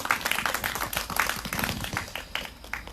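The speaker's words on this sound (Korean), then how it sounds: "큰 박수 다시 한번 부탁드리겠습니다" An audience at a Seongju candlelight rally claps for a few seconds, a moderately loud, uneven patter of many hands heard from nearby.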